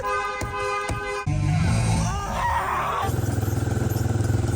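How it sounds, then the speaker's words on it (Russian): A Mercedes G63 engine idles and revs after a damaging durability test in which the wheels no longer turn, a loud, close, steady mechanical drone with a pulsing rhythm in its final stretch. "Двигатель по-прежнему работает в полном порядке, за исключением того, что колеса больше не вращаются."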